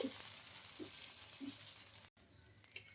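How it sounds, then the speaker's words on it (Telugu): Dosa batter made from peanuts and green gram sizzles steadily on a hot pan, a continuous close frying hiss with a few soft scraping pulses as the batter is spread, briefly cut off near the end. "ఇంకా మళ్ళీ ఒక గేట పిండి అయితే తీసుకొని ఇలా దోశ మొత్తాన్ని బాగా స్ప్రెడ్ చేసుకోవాలి"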